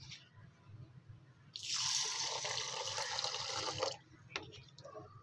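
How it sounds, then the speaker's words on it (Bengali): Red lentils being rinsed in a bowl of water, a steady splashing and sloshing that starts suddenly, runs for about two seconds at close range and then stops, with faint drips and a few small clinks after it. "আর এই ডালটা আমি ভালো করে ধুয়ে নেব।"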